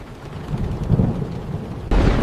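Heavy rain pours steadily while low thunder rumbles underneath, growing louder near the end.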